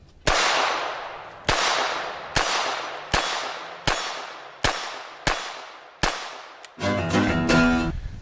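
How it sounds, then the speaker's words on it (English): Ruger LCR .22 LR revolver firing at a metal target 10 yards away, seven sharp shots at a steady pace, each followed by a ringing decay, then a clattering metallic burst at the end. "Can we shoot a piece of metal at 10 yards with it?"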